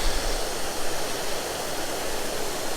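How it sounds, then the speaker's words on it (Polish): Cascades of an artificial waterfall in a quiet, well-kept Polish village of Łagiewniki, heard as a steady, dense rush of falling water that stays even and continuous with no voices. "kaskady sztucznego wodospadu"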